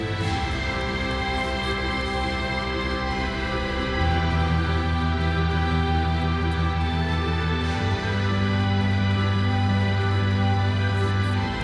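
Full, steady music played through 160 Samsung Galaxy Home smart speakers, with a sustained bass line that shifts pitch twice, playing loudly and continuously with no talking.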